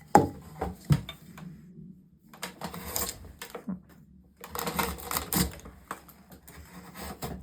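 Steel drawknife blade, Stubai or TwoCherries, shaving wood with scraping, biting strokes in uneven bursts, close and moderately loud, with short pauses between cuts.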